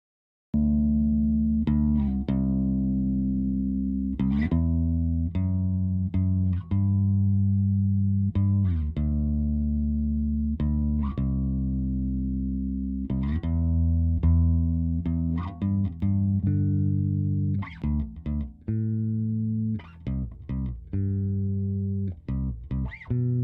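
A bass guitar DI track plays back cleanly, with a run of plucked notes in a steady groove, each note sustaining before the next attack, loud and alone without any talking.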